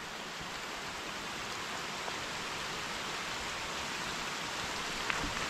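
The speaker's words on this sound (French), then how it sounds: "on s'arrête 15 secondes et il se met à pleuvoir à fond la caisse" Heavy rain pours down steadily on a mountain hiking trail, a dense, even hiss with no break and a few faint drop ticks.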